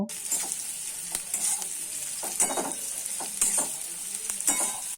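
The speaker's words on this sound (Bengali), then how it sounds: "এখন পেঁয়াজটাকে খুব ভালো করে ভেজে নেব।" Chopped onions fry in hot oil for a banana flower chop, a steady close sizzle broken by repeated scraping stirs of a spatula against the pan, with no talking.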